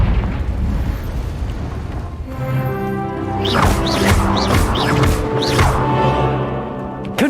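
Blasting spell explosions from Confringo in Hogwarts Legacy, a run of several bursting booms with rising crackly whooshes, loud and close, layered over a steady rumbling game ambience with musical tones.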